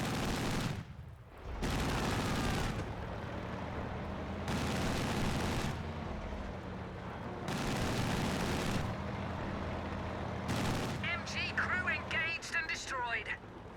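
Bursts of machine gun fire from a Company of Heroes 2 battle, several sustained volleys separated by short pauses, loud and dense, with a voice commentating over the action.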